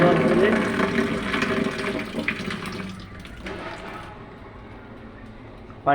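Hot fried dried fish (shutki) dropped into a bowl of water and washed, with close splashing and sloshing that thins out toward the end, a muffled voice speaking underneath.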